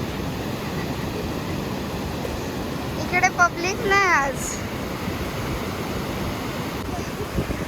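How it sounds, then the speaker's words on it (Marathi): Sea waves breaking on a sunny beach, a steady broad wash of surf running through the whole stretch while people talk briefly in the middle. "हे बघा किती लाटा येतात."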